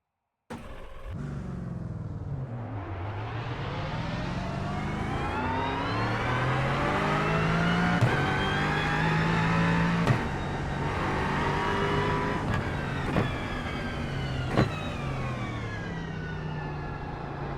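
A GT3 race car engine in the iRacing video game revs up and holds a loud, high whine, with gear shifts breaking the pitch several times, no talk over it.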